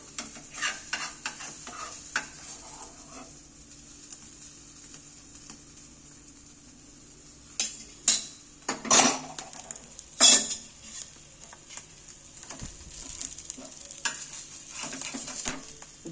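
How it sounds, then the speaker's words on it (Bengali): Breakfast pieces fry in a pan and are flipped over, a soft ongoing sizzle broken by several sharp metallic clatters and scrapes of a utensil against the pan, close by. "2 পেটি ভালোভাবে ভাজা হয়ে যাবে, ওই জন্য উল্টিয়ে দিই।"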